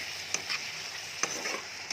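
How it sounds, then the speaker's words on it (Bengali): Potatoes with spice paste fry in a pan while being stirred, the soft steady sizzle broken by a few sharp spatula scrapes and taps. "এবার মশলা দিয়ে আলুটা কষাই"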